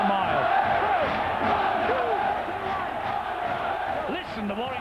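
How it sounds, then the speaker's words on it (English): Warrington rugby league crowd at a 2010 Super League match against Wigan, a loud massed roar of chanting voices filling the ground, steady and distant with rising calls near the end. "Listen, the Warrington crowd."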